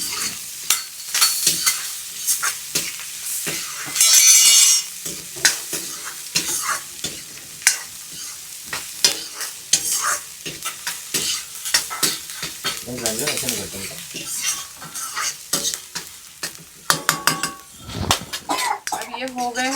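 Chopped onions and green chillies fry in an oily pan for samosa filling, stirred constantly with a metal spoon that scrapes and clinks, while a loud sizzle runs throughout and a voice speaks at times.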